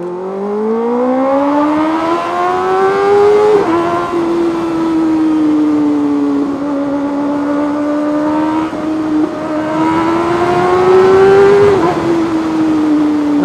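A 2024 Kawasaki ZX6R with headers, a new exhaust and a remap revs loudly and up close, its engine note climbing and falling in repeated sweeps.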